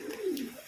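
A newly caught pigeon gives a single soft, low coo, close by and fairly faint, with no one talking.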